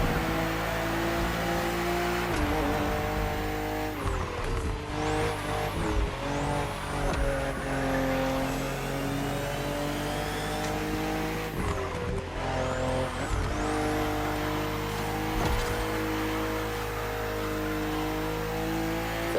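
A BMW M4 CSL in The Crew Motorfest drives and accelerates hard, its engine note rising and falling through repeated gear shifts with brief tire noise. The engine stays loud and close throughout, with no voices.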